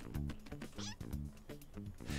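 A cartoon cat meows repeatedly in the roguelike video game The Crackpet Show, a string of clear, close, pitched meows in quick rhythmic bursts with a brief squeaky effect between them.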